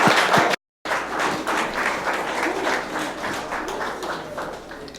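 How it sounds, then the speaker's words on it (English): A crowd applauds athletes at an MMA media day at Tyson Ranch, sustained mid-distance clapping that breaks off for a moment at the start and then continues evenly. "can we please get a round of applause for all of our athletes from Group 1"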